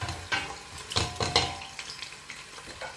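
Onions frying in olive oil for a Tunisian vegetable stew, a close crackling sizzle punctuated by several loud scraping stirs and clanks in an irregular rhythm, without speech.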